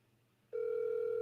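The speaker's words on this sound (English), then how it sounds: "Let me see if I can get my guy on the phone." A steady telephone dial tone switches on abruptly partway through and holds, loud and continuous, after a quiet start, with no talking.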